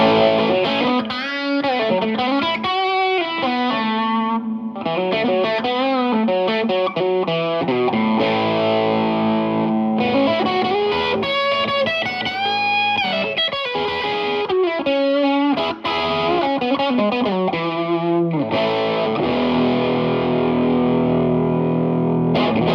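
Electric guitar on the bridge pickup through a modded Monoprice Stage Right 15-watt amplifier on its Marshall Plexi setting plays continuous distorted chords and riffs, loud, dense and unbroken throughout.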